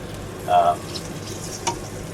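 Potatoes crisping in a hot pan beside duck breasts and calves liver, a soft steady sizzle with a brief louder flare early on, quiet and close.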